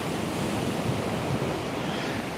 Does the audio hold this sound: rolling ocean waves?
yes